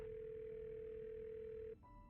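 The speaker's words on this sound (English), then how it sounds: "Phone." Steady telephone dial tone holding at an even, loud level for nearly two seconds, then cutting off abruptly into a quieter line hum.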